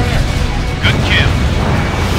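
Fuel air bomb from an A-10 hitting a building in the video game Ace Combat Infinity: a loud, sustained rumbling blast that roars throughout, with short radio-style tones over it.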